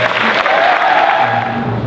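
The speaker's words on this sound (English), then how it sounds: "Y'all give him a big round of applause" A church youth-night congregation applauds a missionary coming up to speak, loud and close, with thick continuous clapping and a sustained tone ringing faintly underneath.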